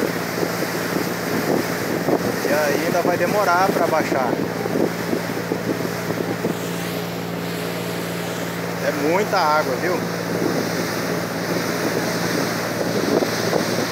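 Ferryboat Obidense III travelling on the flooded Amazon river, a steady engine drone and rushing water with wind buffeting the microphone, as a person talks over it.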